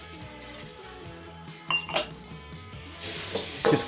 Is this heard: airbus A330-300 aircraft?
no